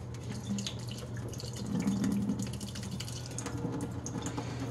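Water pours steadily out of the emptied tank of a Yeedi Vac 2 Pro robot vacuum, a continuous close splashing stream that swells slightly midway, with no voices.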